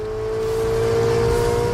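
A Ferrari 488 GTB's 3.9-liter twin-turbo V8 revs in a steady, loud, close drone that swells slightly and holds its pitch, with no voices over it.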